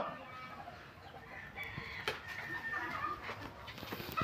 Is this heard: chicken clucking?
yes